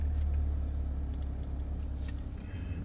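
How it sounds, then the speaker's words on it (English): A BMW car driving around the block, with a steady low engine rumble and road noise from inside the car, continuous and moderately loud with no talk. "So I'm taking the Beamer for a spin."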